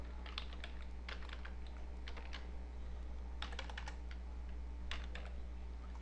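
Fingers type CSS code on a computer keyboard in quick bursts of soft clicking keystrokes, close and quiet over a steady low electrical hum.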